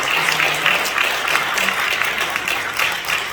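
An audience at a Seoul church prayer breakfast gives loud, sustained applause, dense clapping from many hands filling the room without a break.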